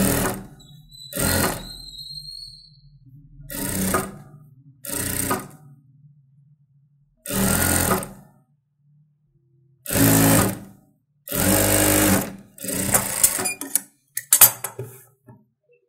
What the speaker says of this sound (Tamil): சும்மா ரஃப்பாக ஒரு தையல் போட்டுடலாம்.